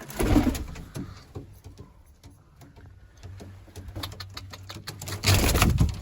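A female pigeon, an escaped bird caught by hand outdoors, cooing softly up close, with a scuffle of rustling and handling noise at the start and end, no talking.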